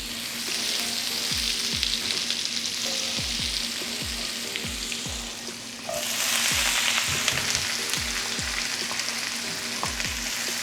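Onion and red and green peppers sizzle in a hot pan for a crawfish Philly, a steady crackling fry broken by repeated stirring scrapes that come in a loose rhythm. A brief dip is followed by louder sizzling.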